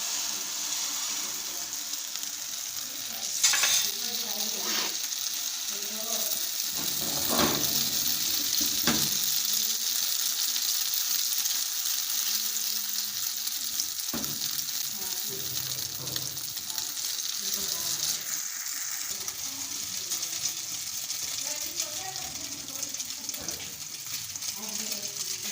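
An egg omelette mixture for a chicken sandwich sizzles steadily in a greased pan, a continuous bright frying hiss with occasional clinks and stirring sounds, and a voice talks at times over it.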